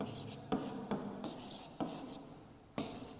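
Pen or pencil writing out numbers for a subtraction sum in a class 4 maths lesson on money, heard as a few short scratchy strokes with brief pauses between them, close and fairly quiet.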